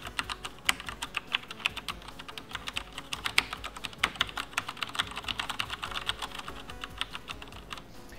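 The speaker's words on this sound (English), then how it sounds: "the Cherry MX red switches, of course, those are rated for 50 million clicks." Fingers type on a Func KB-460 gaming keyboard with Cherry MX Red switches, giving a fast, continuous patter of close, crisp keystrokes with some heavier bottom-outs, and no voices.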